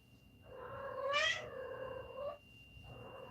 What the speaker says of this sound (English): you might hear my cat going through it a little